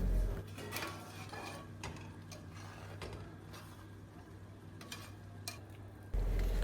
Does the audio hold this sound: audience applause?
no